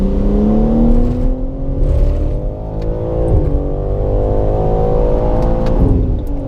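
A car accelerates hard at full power out of the final turn onto the straight at Circuit of the Americas, its engine note climbing steadily in loud, close, sustained revs with rising harmonics.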